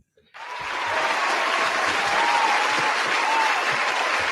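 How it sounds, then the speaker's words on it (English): Applause on a live street talk show, a sudden steady roar of clapping that swells in and holds at a constant level for about four seconds. "Round of applause."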